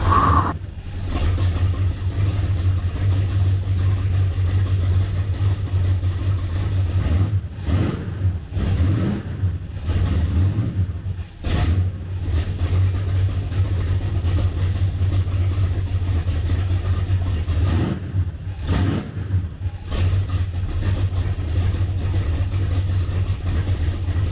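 A 1967 Ford Falcon engine idles with a steady low rumble, broken by a few brief revs partway through, heard up close throughout.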